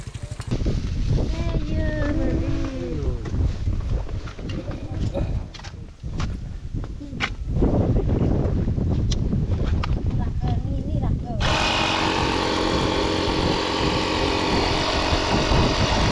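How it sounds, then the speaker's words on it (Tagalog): Strong wind buffets the microphone with a constant roar and rumble on a road trip from Isulan to General Santos, growing harsher and brighter toward the end, with faint engine-like noise underneath. "Kalay hangin."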